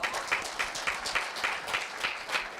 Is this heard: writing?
no